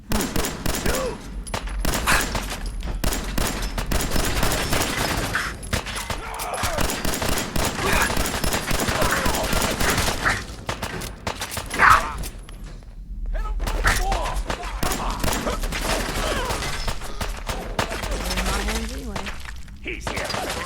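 Gunfire rattles almost continuously in a Fallout 4 firefight, with bursts and impacts packed close together, dipping briefly near the middle before resuming just as dense, while voices speak over the shooting.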